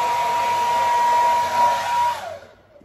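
A hair dryer blows steadily on wet hair after rinsing out a mask, a close, loud, continuous whir with a high whine that runs for about two seconds before the motor cuts off and fades.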